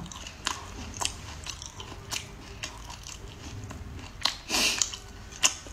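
Close, crisp crunching and biting as a cat's eye sea snail is chewed, with irregular bursts of cracking shell and wet squishy mastication, heard alone without talk.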